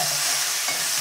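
Tomatoes frying in a pan with moong dal, giving a steady, close sizzle with soft stirring scrapes throughout, no voices.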